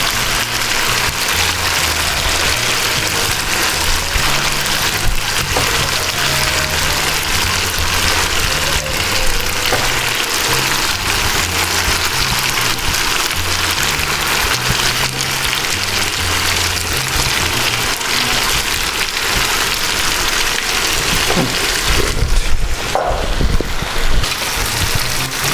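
Chips basting and frying in hot oil give off a loud, steady sizzle that runs without a break, with a low tonal backing underneath and a brief rougher crackle near the end.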